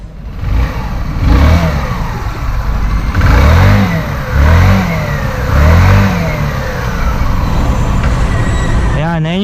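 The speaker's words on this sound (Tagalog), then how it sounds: "Yan, ito yung tunog ng kanyang makina." Microbike EXO150 motorcycle engine revved close up in several rising and falling bursts over a steady idle, ending abruptly.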